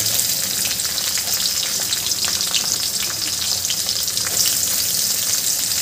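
Chopped onion sizzling steadily in hot oil in a kadhai with chillies and curry leaves for rava upma, a dense continuous frying crackle with small stirring clicks, close and with no talk.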